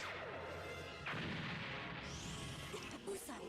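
A cartoon smoke star bomb bursts in a One Piece episode, a sharp crashing blast about a second in followed by a hissing, rising whoosh, set against a busy layer of music and effects.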